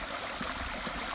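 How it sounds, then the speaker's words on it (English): A creek runs steadily after a storm on a homestead, a continuous soft wash of flowing water, fairly faint and even, with no voices. "now we're just gonna enjoy the blessings of having this stream, this creek running"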